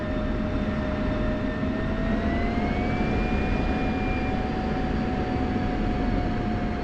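Aircraft engines spool up for takeoff in a flight video game, a loud continuous jet roar with a whining tone that slowly rises in pitch and holds steady throughout.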